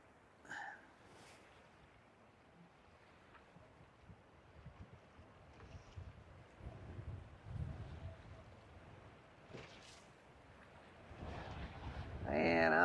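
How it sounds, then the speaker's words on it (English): Wind buffets a fishing boat at the Sardis spillway in Mississippi, a steady low rumble of gusts against the microphone that swells louder near the end, with someone talking briefly over it. "So that wind is getting it."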